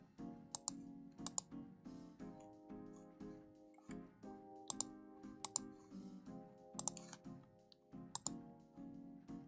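Computer keyboard typing in irregular bursts of quick clicks and clacks, close and fairly quiet, with pauses between runs of keystrokes and faint background tones.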